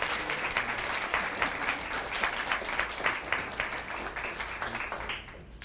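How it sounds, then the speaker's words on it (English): A crowd gives a round of applause at a military volunteer-of-the-year ceremony, even sustained clapping from a sizeable audience that tapers off at the very end. "Give Mike a round of applause, please."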